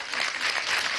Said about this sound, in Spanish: Vamos a darle un aplauso cariñoso.